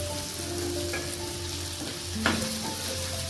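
Capsicum stir-frying in a pan for a cheese corn sandwich filling, a steady close sizzle with a faint hum and one brief scrape of stirring.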